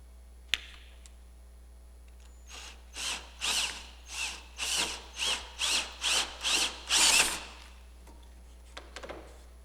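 A power drill bores compound-angle holes into wood in about nine short bursts, each rising and cutting off in a steady rhythm, close and fairly loud, with a sharp click before and light tool clatter after.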